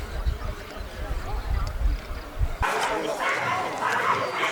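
A young German shepherd, about a year and a half old, barks amid noisy outdoor chatter at a dog event, with short yips and bow-wows mixed into a busy crowd background.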